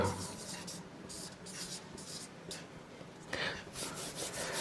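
Chalk or a marker scratches across a board in short bursts of writing strokes, close and clear, with a teacher's voice partly audible underneath.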